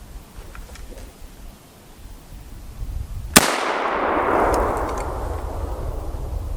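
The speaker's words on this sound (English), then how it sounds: "There is our M1 Carbine shot." A single sharp M1 Carbine shot firing a 110 grain Federal soft point round outdoors, one loud crack followed by a long rolling echo and wind noise.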